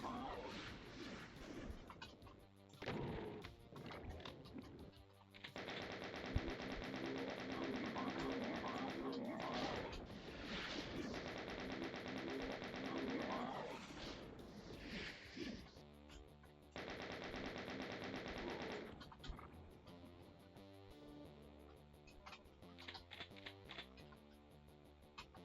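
Rapid chain gun fire in Doom TNT, played on Ultra-Violence from a pistol start, rattling in long sustained bursts with short pauses between them. Dense game sound effects and action noise surround the firing.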